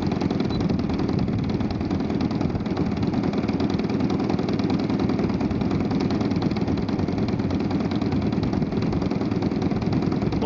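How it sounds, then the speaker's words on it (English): A DLE-20 20cc gas model airplane engine fitted with a canister muffler idles low and steady, a loud continuous buzzing drone with even pulsing and no breaks; no talking. "Yeah, idle seems smoother."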